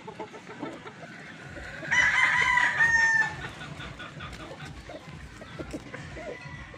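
A pure Gilmore Hatch gamefowl rooster crows once, loud and close, over soft background clucking and farmyard noise.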